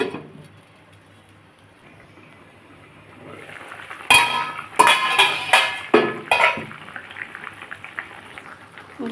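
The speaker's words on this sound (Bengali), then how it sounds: "দেখুন বন্ধুরা এটা আমার ফুটছে আলুটা অনেকটা সেদ্ধ হয়ে গেছে" Potatoes bubble in a covered pot, a low simmer at first, then sharp clinks and rattles of the lid and pan as the boiling grows more vigorous.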